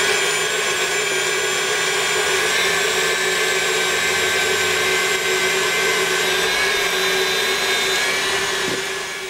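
An electric hand mixer whips egg whites until frothy for an Anglo-Italian trifle, giving a loud, steady whirring whine that runs unbroken throughout with no talking.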